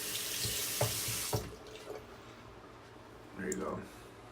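Tap water runs over a razor blade to rinse off shaving gunk in a bathroom sink, a steady splashing stream with a few knocks, then fading to a quieter trickle while a voice talks briefly.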